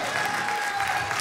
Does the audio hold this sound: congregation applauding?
yes